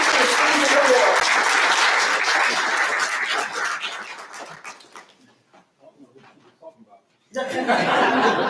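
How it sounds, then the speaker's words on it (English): Loud audience applause at a community college Black History Month program, with some laughter and voices mixed in, fading to near quiet midway before a fresh burst of clapping returns. "Give them a round of applause"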